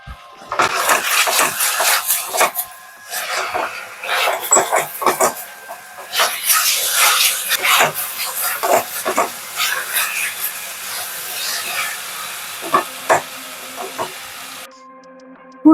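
Chicken curry with vegetables boiling down on a high flame, water cooking off in a steady, loud sizzling hiss with uneven crackling surges that continue until the sound cuts out near the end.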